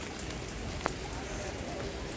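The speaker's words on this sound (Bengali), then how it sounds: "বৃষ্টি পড়তেছে" Rain patters steadily across a rooftop garden in a soft, even wash, with one sharp tap standing out.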